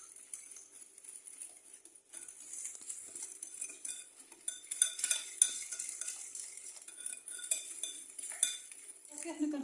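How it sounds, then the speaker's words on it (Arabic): A utensil stirs basbousa batter in a bowl, a soft and fairly faint scraping and clinking in an uneven rhythm that continues throughout. "حنا كنخلطوا هاد المقادير"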